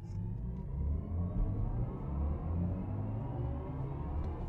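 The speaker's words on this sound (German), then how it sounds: "Und jetzt beschleunige ich nochmal hier durch." A BMW i4 M50 electric sedan accelerates hard in sport boost mode, giving a steady, rising electric whir over a low road rumble that builds smoothly for a few seconds, heard from inside the car with no talking.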